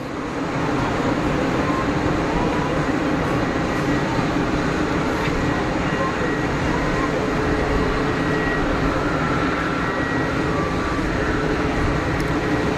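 An EasyJet airliner at Geneva Airport gives off a steady, broad roar of engine noise that holds unchanged throughout, moderately loud and heard from a distance.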